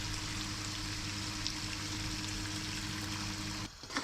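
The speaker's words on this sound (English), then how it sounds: "at this point, you're going to add in a cup of water" A cup of water pours steadily into a pan of half-cooked South Indian chicken gravy, a continuous close splashing rush that cuts off abruptly near the end, with no talk.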